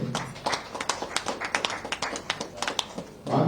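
An audience at a political gathering in Brajrajnagar, where sarpanches are joining the BJP, claps for the arriving village heads: a scattered, patchy round of hand claps at moderate distance.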